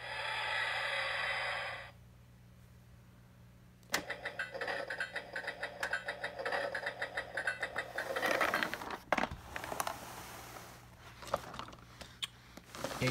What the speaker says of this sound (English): when you take one of the good knights, you hear those gears working in there?